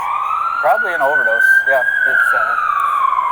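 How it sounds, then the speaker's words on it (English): An ambulance siren sounds close by in a street, a loud steady wail with a slow rising and falling pitch, while people talk over it throughout. "Where do you think that ambulance is going to that we can hear behind us?"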